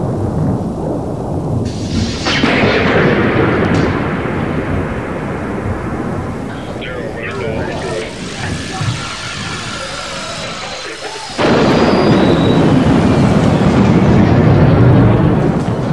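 Thunder from a lightning strike triggered at a research lab, a loud rolling rumble that swells, fades over several seconds, then breaks out again in a sudden heavy crash near the end.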